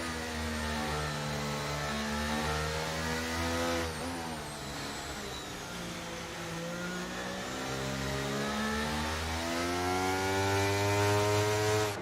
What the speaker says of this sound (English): the engine sound on this game is actually lush to hear